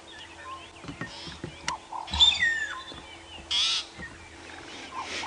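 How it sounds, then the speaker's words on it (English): A young magpie shrike calls at sunrise on a safari drive, giving several short, fairly close chirps and whistled notes over a low, steady vehicle hum. "It is a magpie shrike."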